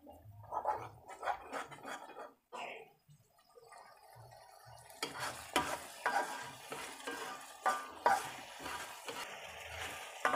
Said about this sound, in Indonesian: Aduk-aduk hingga petisnya larut ya, dan menyatu dengan sambelnya.